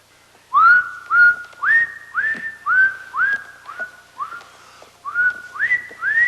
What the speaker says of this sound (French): Tu siffles.